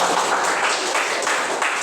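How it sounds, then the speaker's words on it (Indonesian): Students applaud a group in a classroom, a brisk, steady patter of many hands clapping at close range that carries on without pause. "Tepuk tangan untuk kelompok 2."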